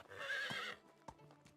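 In the medieval village game Medieval Dynasty, a horse lets out a short, fairly close whinny, followed by a few soft hoof clops on the ground.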